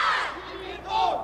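A large crowd at a 1987 high school cheerleading nationals roars and yells continuously, a sustained wall of cheering voices with a swell near the end.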